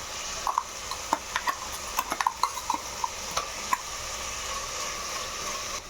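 A spoon stirs a spinach, fenugreek, coconut and green chili paste into pulao in a pan, with light scraping clinks at an irregular pace over a soft, steady sizzle.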